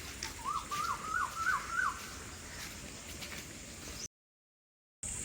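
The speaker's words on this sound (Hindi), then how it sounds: "कोयल की आवाज़ आपको आ रही होगी।" A koel gives a short series of rising whistled calls over steady outdoor background noise, then the sound cuts out briefly.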